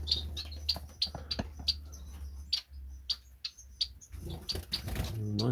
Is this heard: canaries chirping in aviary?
yes